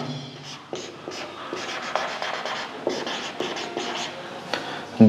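A decimal number being handwritten, with steady scratchy pen-on-paper strokes in short bursts and small pauses, close and moderately loud, with no voice.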